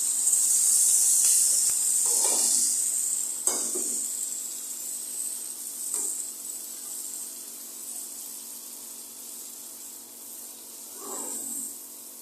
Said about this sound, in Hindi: अभी हम अदरक लहसुन का पेस्ट डाला था। अब मसाले में हम भून लेंगे।